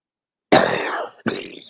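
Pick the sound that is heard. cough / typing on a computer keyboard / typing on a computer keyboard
cough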